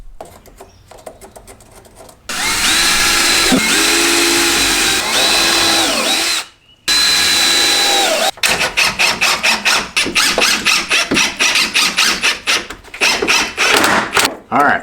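Power drill driving screws with washers to fix pivoting caster wheels onto a workshop bench, in close, loud bursts: a long steady whir, a short pause, another sustained run, then a series of rapid stop-start pulses as screws seat.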